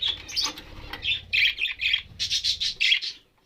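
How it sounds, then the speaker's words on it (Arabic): Bird chicks calling in a nature reserve, a loud, close run of rapid high squawks and cheeps repeating in quick bursts for a few seconds, then falling silent. "راه وليد ها الطير هذا"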